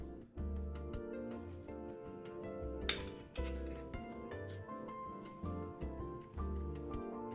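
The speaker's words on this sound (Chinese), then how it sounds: "将面粉、盐、即溶酵母放入盆中拌匀" Flour, salt and instant yeast are mixed in a bowl, with a utensil clinking and tapping repeatedly against the sides, fairly quiet with soft music playing underneath.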